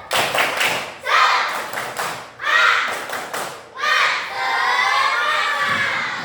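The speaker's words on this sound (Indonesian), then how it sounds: "Kita ulangi lagi ya. Tepuk semangat." Schoolchildren in a classroom repeat the 'tepuk semangat' clapping chant together, with loud shouted phrases broken by quick rhythmic claps and thumps, building to a long collective cheer at close range.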